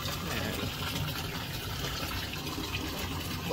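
Water is scooped and poured while a concrete fish pond tank for catfish fingerlings is being prepared, a soft, continuous splashing gush at close range with no voices over it.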